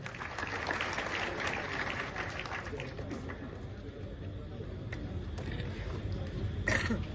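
A crowd at a Maharashtra Kesari kusti wrestling bout applauds: a fairly faint, continuous patter of distant clapping, with voices talking over it throughout.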